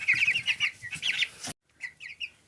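A young broiler chicken, about 850 grams, clucks and peeps up close while being weighed, giving a quick run of sharp chirpy calls that stop abruptly and then resume more softly.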